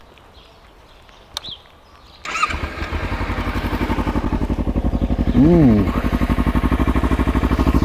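A Kawasaki Ninja 300 fitted with an Akrapovic exhaust starts after a quiet moment, then idles loud and close with a steady pulsing beat and one brief rev in the middle; someone makes a short exclamation.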